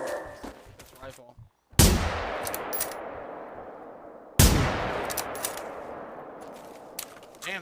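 Rifle gunfire in the video game Generation Zero: two loud, sharp shots about two and a half seconds apart, each with a long ringing decay, following brief murmured talk and clatter.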